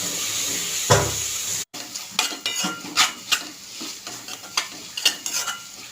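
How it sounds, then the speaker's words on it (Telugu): Onions, green chilies, tomato and curry leaves frying in oil in a pan, with a soft steady sizzle broken by repeated clinks and scrapes of a spoon stirring against the metal. "ఉల్లిపాయలు, పచ్చిమిరపకాయలు, టమాటా, కరివేపాకు అన్నీ వేసి మగ్గేదాకా వేయించుకోవాలి"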